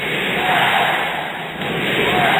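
Packed arena crowd at a Philippines versus Iran basketball game shouts loudly and continuously, with a roar that dips briefly before swelling again.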